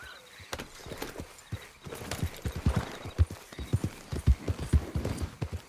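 A horse ridden in the Red Dead Redemption 2 video game, its hooves clopping in a quick, steady galloping rhythm that grows louder and closer, with a whinny in the mix and no talking.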